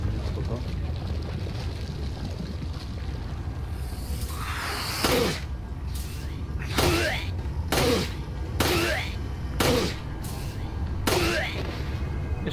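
Gunshots in the video game Resident Evil 4: a series of five or six sharp, loud reports spaced about a second apart, rising over a steady background hum with speech present.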